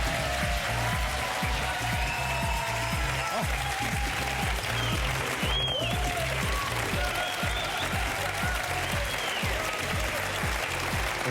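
A French television studio audience applauding a guest's entrance, dense sustained clapping from a large crowd, loud and continuous throughout with faint voices beneath.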